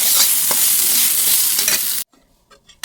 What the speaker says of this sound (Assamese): এইফালে বুট ভাজি আছে